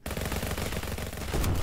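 Rapid gunfire from a gun in a weird Steam video game, a dense continuous burst filling the clip at close range with a heavier thump near the end, no talking.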